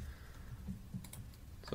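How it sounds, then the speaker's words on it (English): Typing a genus name on a computer keyboard, a few soft, quiet key clicks spaced irregularly over a low background hum. "I just type in the genus here and it starts to help finish it"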